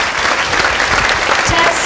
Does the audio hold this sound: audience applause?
yes